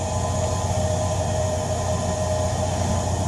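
HO-scale model E-unit diesel locomotives run along a California Zephyr layout, giving a steady, even motor hum and rolling rumble throughout, close and moderately loud with no voices.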